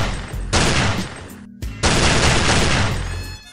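Bursts of rapid gunfire in two loud, dense volleys with a brief gap between them, harsh and close, with no talking.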